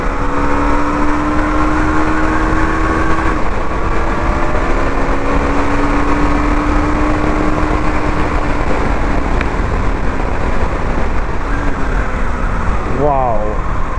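A Husqvarna Vitpilen 250 motorcycle engine runs steadily, its drone holding pitch with slight shifts and a quick throttle blip near the end, heard close under wind noise on the road.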